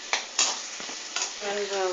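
Tomatoes sizzling in a hot pan for paruppu keerai sambar, with scraping stirs and a faint voice in the background.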